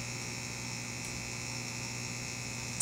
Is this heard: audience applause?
no